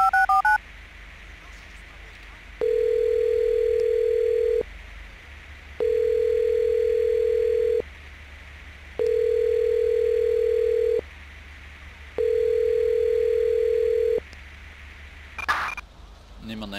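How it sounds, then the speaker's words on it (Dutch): A phone call in GTA 5 with the LSPDFR police mod opens with quick dialing beeps, then four long, evenly spaced ringback tones with silent gaps between them, ending in a brief burst of noise. "Niemand neemt op. Dan gaan we eens de thuistelefoon bellen."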